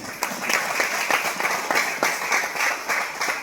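An audience at a poetry recital during a rathayatra program claps in a steady, moderate round of applause, with many individual claps spread evenly across a few seconds.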